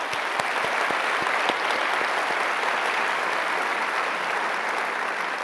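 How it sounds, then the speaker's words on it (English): An audience at the Solve at MIT 2019 event gives a round of applause, dense and even clapping that holds at a steady loud level with a few sharper claps standing out near the start. "Please give them a round of applause."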